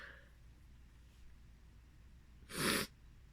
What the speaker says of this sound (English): I'm always sniffling.